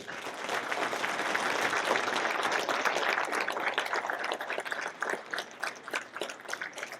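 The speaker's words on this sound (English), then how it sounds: "Please give a big round of applause for Bryce Clark" An audience at an awards event honouring Bryce Clark, one of Leadership Kitsap's 20 under 40, breaks into sustained clapping. The applause is steady and fairly distant, thinning slightly toward the end.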